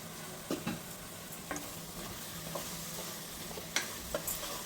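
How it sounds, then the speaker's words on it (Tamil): Beans, carrot, green peas and potato stir-fried over high flame in a pan, with a soft continuous sizzle and several scraping stirs of a spatula, fairly quiet and with no talking. "நல்லா கொஞ்சம் ஹை ஃப்ளேமில் வச்சுட்டு நல்லா அதோட ஜாஸ்தியாக போட்டு நல்லா கிளறி விட்டுட்டு"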